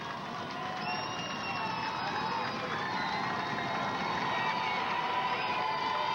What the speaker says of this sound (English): Greyhound fans cheering on their defense here.